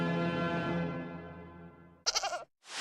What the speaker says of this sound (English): We have a goat here. Stupid goat.